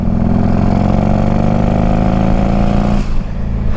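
A turbocharged Harley-Davidson CVO Road King motorcycle engine runs close and loud with a steady, throbbing idle. It drops away abruptly near the end.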